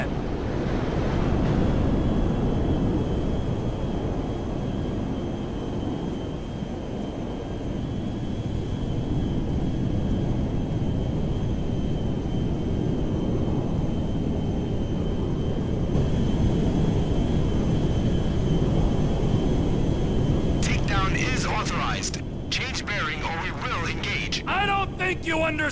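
A plane comes in to land at Mackenzie Field in GTA V, its steady loud engine and wind roar running throughout, with a brief burst of voice near the end.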